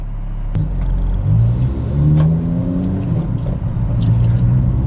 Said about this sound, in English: Let's put this thing in gear and go for a drive.